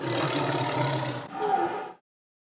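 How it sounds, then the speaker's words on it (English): A tiger gives a long, rough, rumbling roar up close, followed by a second shorter growl that cuts off into silence. "You heard a tiger?"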